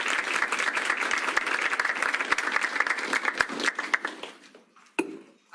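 An audience at a university lunch talk applauds to welcome law professor Victoria Nourse: a full, lively round of clapping that thins out and fades near the end, followed by one sharp late clap and a brief quiet pause.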